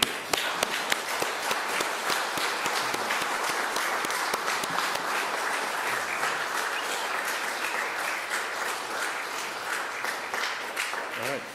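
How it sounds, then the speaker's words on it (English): An audience at a Boy Scout Court of Honor ceremony applauds steadily, a dense, sustained round of clapping from a standing crowd indoors, heard at moderate level throughout. "if the audience would please stand and join me in a round of applause."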